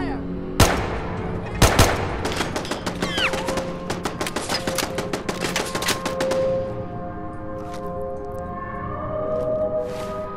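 Rapid bursts of gunfire and sharp shots from a Fallout 4 firefight, loud and dense, with repeated cracks over a mechanical hum and a few distant pops trailing off toward the end.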